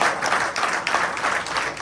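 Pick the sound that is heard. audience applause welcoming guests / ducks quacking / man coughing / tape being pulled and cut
audience applause welcoming guests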